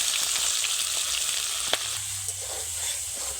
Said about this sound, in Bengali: এইবার দিয়ে দেব আদা রসুনের বাটা।